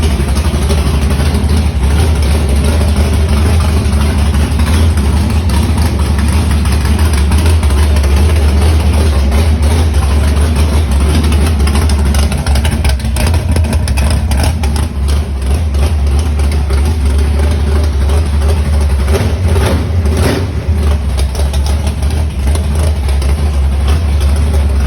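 A 700+ horsepower naturally aspirated Mopar engine in a street truck idles close by, a loud, deep, steady rumble with a slightly lumpy, choppy pulse that continues unbroken throughout, with no one speaking.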